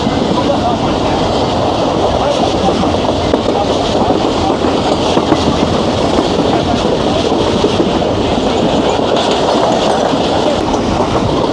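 The Jaffar Express runs fast across Punjab in Pakistan, heard from on board as a loud, continuous rail roar. Steady wheel clatter runs under it for the whole stretch.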